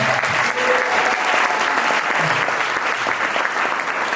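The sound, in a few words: audience applause for Drumma Boy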